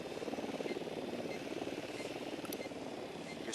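A helicopter in the video game Ghost Recon Wildlands thrums steadily at moderate distance, its rotor beat pulsing evenly with no talk.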